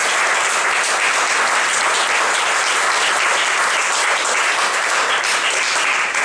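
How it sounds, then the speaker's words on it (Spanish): A church congregation applauds loudly and steadily throughout, a dense sustained wash of clapping from many hands with no talk over it. "¿Se ha aplaudido a Jesucristo? Aplaudan."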